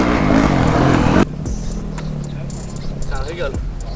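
A 2023 Yamaha YZ450F four-stroke motocross bike roars loudly for a little over a second, then drops to a quieter, rumbling engine note with voices in the background.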